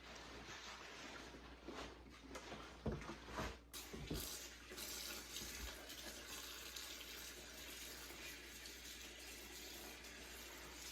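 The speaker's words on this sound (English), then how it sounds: "I wash these mustards the same way, the front and the back." Water runs from a tap at a sink as mustard greens are washed under it, a steady soft rush with occasional splashes and handling noises, fairly faint and unbroken.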